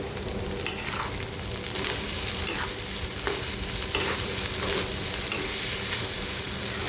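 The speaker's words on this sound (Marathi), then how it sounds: "आता हे व्यवस्थित आपल्याला भाजून घ्यायचं आहे तेलामध्ये बघू शकता तुम्ही" An egg curry mixture fries in oil, giving a continuous close sizzle as it is stirred, with repeated light scraping knocks of the spoon against the pan every second or so.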